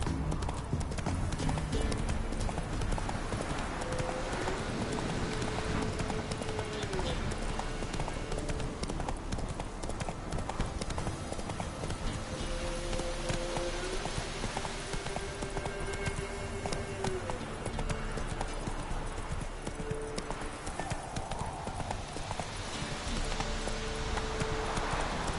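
Roach, the horse in The Witcher 3, gallops in a steady clip-clop of hoofbeats that carries on throughout, close and prominent over game ambience and faint music-like tones.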